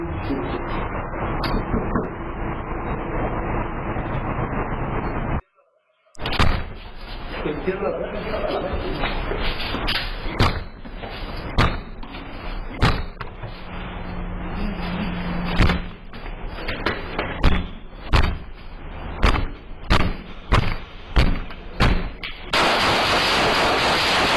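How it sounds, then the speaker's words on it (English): An apartment door is kicked in with a run of sharp, loud bangs and slams, repeated in quick bursts over loud talking and shouting. "you kicking in the man's door"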